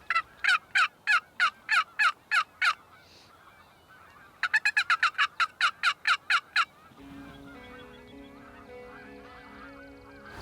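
A wild turkey male gobbles in two bursts of rapid, loud, evenly spaced calls, the second faster and more clipped, followed by a quieter stretch of low outdoor background.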